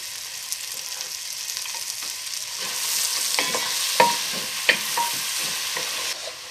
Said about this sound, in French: on fait fondre notre morceau de beurre et on ajoute nos rondelles d'oignon qu'on va laisser rissoler jusqu'à ce qu'ils prennent une petite couleur dorée